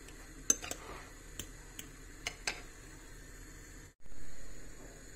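Potato filling with pepper and cumin being stirred in a bowl, heard as a few sharp, close clinks and taps of a utensil against the bowl, spaced irregularly over a quiet background, then a soft rushing swell.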